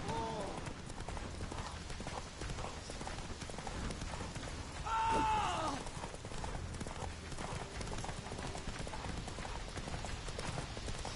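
Horse hooves clip-clop at a gallop in The Witcher 3 video game, a steady rhythmic beat under game music and effects, with a brief whinny-like tone midway and a voice nearby.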